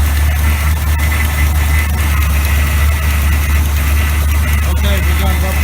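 A Small Block 400 V8 engine idles with a steady, loud low rumble that continues without a break, and someone talks over it.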